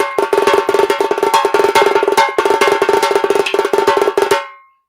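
A fast, continuous tassa drum roll of sharp metallic-sounding hits in steady rapid rhythm, loud and close, with brief gaps before stopping abruptly.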